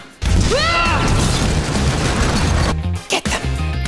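A Bombarda Maxima spell explosion from Harry Potter detonates with a loud, booming crash, followed by a rumbling roar and a few further thumps and impacts.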